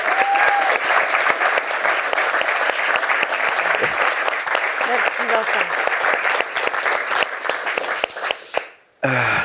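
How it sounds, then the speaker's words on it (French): A theatre audience gives loud, sustained applause to welcome an actress guest at a film meeting in Lausanne, dense clapping filling the room before it drops away at the end, where a voice briefly speaks. "On peut applaudir cette femme."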